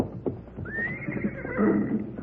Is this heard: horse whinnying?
yes